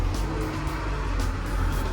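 A Hitachi ZW140-5B wheel loader drives along, its engine giving a steady, loud, continuous rumble close by with no talking.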